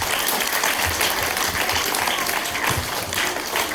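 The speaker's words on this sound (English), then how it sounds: "Please give these students a round of applause" A school assembly audience of children and staff claps for a group of students, a dense, steady burst of applause filling the room for a few seconds with no break.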